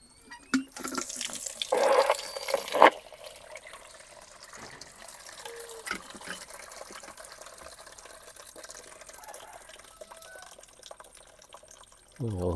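Water from a Jetmatic hand pump splashes while something is washed under it, a loud gushing burst early on that settles into quieter trickling and dripping.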